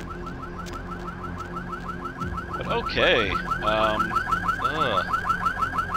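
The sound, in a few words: car alarm in the video game Vampire the Masquerade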